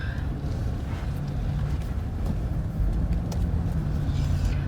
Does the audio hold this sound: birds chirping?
no